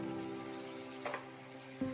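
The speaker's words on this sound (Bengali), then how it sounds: "ক্যাপসিকামগুলো ভালো করে তেলের মধ্যে নাড়াচাড়া করে নিতে হবে।" Chopped capsicum stirred in hot oil in a pan, a faint steady sizzle with a couple of soft scraping knocks from the stirring spoon, quiet and close, no talking.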